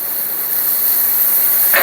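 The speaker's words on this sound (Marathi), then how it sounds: "उकळा माझा चहा उकळा" Tea boiling over on a home stove gives off a steady, loud steamy hiss that runs the whole time, with a brief brighter burst of spray near the end. No one speaks.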